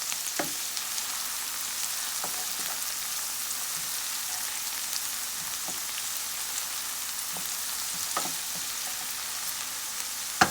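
Finely chopped onions fry in a pan with a steady, even sizzle and scattered small pops and crackles, close by and with no talk.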